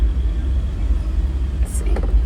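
A car engine rumbles low and steady while the car moves forward onto a ferry on a rainy day, with brief muffled clunks near the end.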